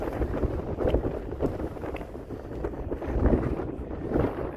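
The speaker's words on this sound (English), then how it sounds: "It's a little windy up here on top of the balls." Gusty wind buffeting the microphone outdoors on an Appalachian Trail mountain top, rumbling in uneven surges and lulls, fairly close and rough.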